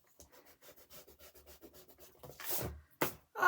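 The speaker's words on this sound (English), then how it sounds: "And I'm going to rub it out." An eraser rubs out pencil marks on a handmade paper card in quick, soft back-and-forth scrubbing strokes, close and quiet, finishing with a couple of louder brushing swipes.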